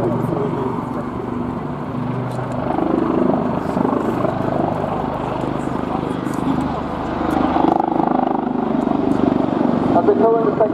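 Westland Wildcat helicopters of the Royal Navy Black Cats display team at RIAT 2016 air show, a steady loud rotor and turbine drone swelling slightly as they maneuver, with commentary talk over it.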